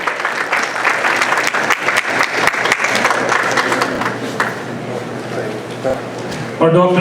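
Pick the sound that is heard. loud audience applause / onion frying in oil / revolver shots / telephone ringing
loud audience applause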